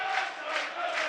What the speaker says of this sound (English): Really good noise at Turf Moor.